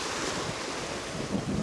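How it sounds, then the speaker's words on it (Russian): Sea waves break one after another on the shore at Mirny in Crimea, a loud continuous rushing surf with wind buffeting the microphone and no talking. "Вон какие волны. Одна за одной идут."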